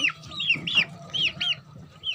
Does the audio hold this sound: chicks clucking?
yes